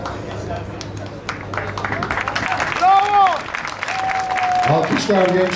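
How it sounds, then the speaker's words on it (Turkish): Crowd applause for a young rally team at a rally award ceremony, steady clapping under a loud announcer's voice, with a brief musical or whistle-like tone rising partway through. "alkışlar genç ekip için"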